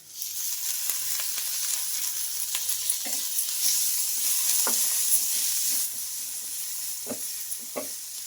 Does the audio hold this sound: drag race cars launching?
no